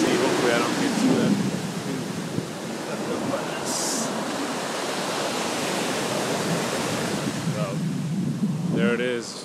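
Mediterranean Sea waves wash loud and close onto a beach in Spain, a steady broadband roar of surf mixed with wind buffeting the microphone, with faint voices near the end.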